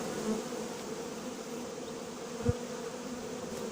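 Steady, low buzzing of honeybees fanning their wings at a hive hums throughout, a dense droning of many wings close by, with a brief soft thump midway.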